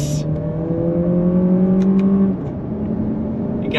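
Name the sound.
Lexus RX 500h F Sport accelerating in sport mode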